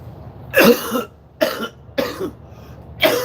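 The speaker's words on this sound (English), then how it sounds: "There's nothing that I'm going to do that's going to stop me from coughing while I hit this bong." Several harsh coughs after a bong hit, in short bursts, close up, with brief pauses between each fit.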